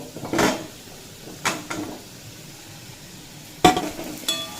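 Papaya, potato and pumpkin with spices are stirred in a pan over low to medium flame, with soft sizzling under a few scraping strokes and clinks of a spatula against the pan.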